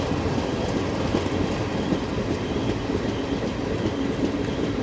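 Koyna Express passenger train running steadily toward Pune station, a continuous loud rumble of wheels and coach body with rhythmic clickety-clack over rail joints throughout.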